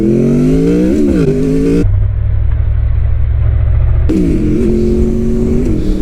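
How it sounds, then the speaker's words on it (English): A Honda VFR800 motorcycle engine revs while riding: loud rising and falling whines, a brief drop to a low steady drone mid-ride, then climbing revs again, close and continuous. "this is potentially the last ride I will ever do on my VFR800"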